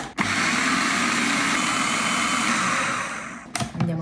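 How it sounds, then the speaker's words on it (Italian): A blender blending lentils whirs continuously at high speed for a few seconds, then cuts off with a couple of clunks at the end. "Chiudo e frullo bene il tutto."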